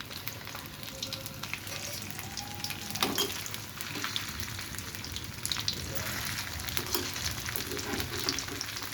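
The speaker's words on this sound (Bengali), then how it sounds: "এটা অনেকক্ষণ ধরে ভাজতে হবে, যাতে মুড়মুড়েও হয়, অথচ ভিতরটা ভাজা হয়ে যায়" Taro pakoras deep-frying in hot oil, a close, steady crackling sizzle with brief louder bursts and light stirring, continuing throughout with no voices.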